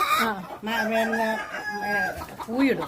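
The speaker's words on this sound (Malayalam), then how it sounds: "പിന്നെ ഇതാ ഇവിടെയൊക്കെ കോഴികളുണ്ട് ഇഷ്ടംപോലെ" Chickens cluck and crow in a backyard coop among many hens kept for hatching eggs, with a voice talking over the birds throughout at close range.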